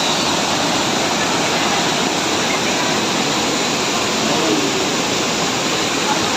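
Taytay Falls in Majayjay, Laguna roaring steadily, a loud, dense, unbroken rush of falling water heard up close, filling the whole span without pause.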